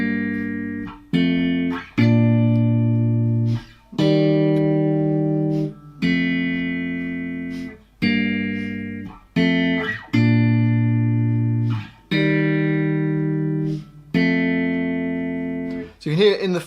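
Guitar strums the chorus of a song, each chord held and left ringing rather than cut short, in a steady sequence of sustained strums with no talking.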